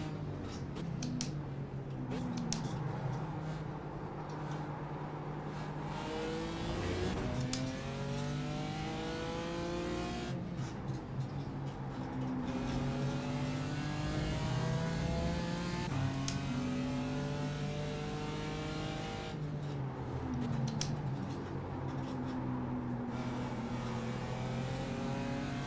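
A GT4 race car engine at Brands Hatch in iRacing roars steadily, rising and falling in pitch through repeated upshifts and acceleration runs, loud and close with no talk over it.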